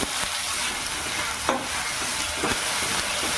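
Ginger garlic paste fries loudly in a pan with browning onions, a dense steady sizzle with a couple of clacks from the stirring spoon, close and without speech.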